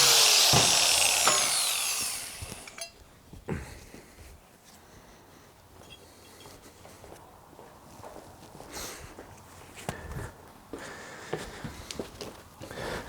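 A power tool cuts into a metal wheel arch flange on a classic Mini turbo build, a loud harsh grinding burst for about two seconds, followed by quieter clanks and handling noises.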